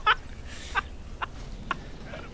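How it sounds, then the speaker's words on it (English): A startled duck lets out a few short, sharp squawks spaced unevenly over a quiet background. "Oh, I love the fact that you scared the duck."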